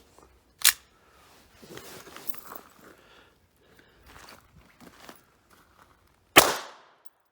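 Two sharp, fairly faint cracks about six seconds apart from a Hi-Point CF380 pistol at a shooting range, with soft shuffling and movement in between and no voices.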